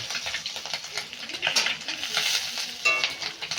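Small bata fish frying in oil for a Bengali curry, heard as a close, uneven sizzle with surging bursts and the scrape and clink of a utensil stirring the pan, no talking.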